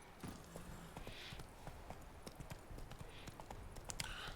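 Roach, the horse in the video game The Witcher 3, trotting: a rapid, steady clip-clop of hooves, close and fairly crisp over a soft background bed.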